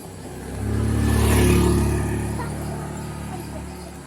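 A car approaches and passes close by at a Ganpati homecoming procession, its engine swelling from a low hum to a loud peak at mid-clip, then fading slowly.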